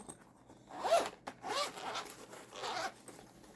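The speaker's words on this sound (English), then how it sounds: "Wrong zipper." A clothing zipper being opened in a few short, close rasping pulls with brief pauses between them, quiet and alone in an otherwise still room.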